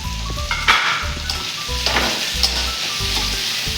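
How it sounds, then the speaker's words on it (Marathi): Tomatoes tipped into a pan of ginger and garlic, a loud close sizzle with stirring and scraping that keeps going steadily, no voices. "आता आपण टॅमॅटो टाकून घेऊया त्यामध्ये"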